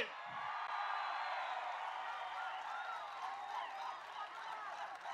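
A crowd at a Jana Sena political rally in rural Andhra Pradesh claps and applauds in a steady, dense wash of sound that lasts the whole stretch.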